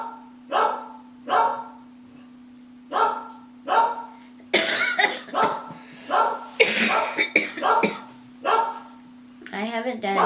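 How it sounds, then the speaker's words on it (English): Pet dogs barking indoors at home, a series of sharp repeated barks in bursts, fairly close, with a steady background hum and a brief spell of other vocal noise near the end. "You can hear my dogs."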